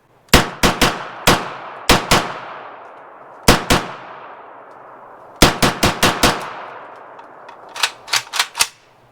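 Series of sharp, loud gunshots from a Turkish MKE AP5SD, a braced-pistol MP5-SD clone, fired at a range in quick bursts of two to five rounds separated by short pauses, each crack ringing off briefly.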